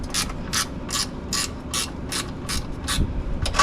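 A ratchet with a 10 millimeter socket loosening a bolt on a Ducati Monster 937 exhaust, giving a close, steady series of about ten clicking strokes in an even rhythm, with no talking.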